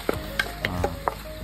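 Meat sautéing in a pan with ginger, garlic and onion for Filipino balbacua, a steady close sizzle broken by several sharp scrapes and clinks of a spoon stirring against the pan.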